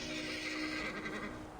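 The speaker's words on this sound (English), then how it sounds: "Sounds like a horse to me." A horse whinnies in a video game in a long, wavering neigh, fairly close, over a constant electronic background hum with no talking.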